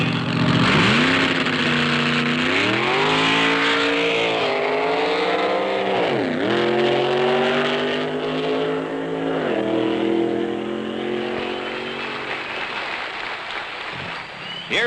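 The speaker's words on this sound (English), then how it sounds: "the factory experimental cars thrill the crowd as they lunge off the starting line and blast to" Mid-1960s factory experimental drag racing cars lunge off the starting line at a drag strip, loud engines roaring and revving up in repeated rising sweeps, close and continuous for the whole stretch.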